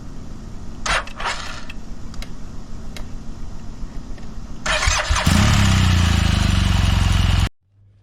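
A motorcycle engine is started before an oil change: a few mechanical clicks and ticks over a steady background, then the engine catches at about five seconds and settles into a loud, steady idle close by.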